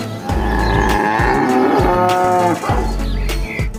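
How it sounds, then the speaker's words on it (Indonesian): A cow moos loudly and close, a long sustained low call with rich harmonics that fills the whole moment, with no other sounds around it. "Widih, ternyata ini sapi."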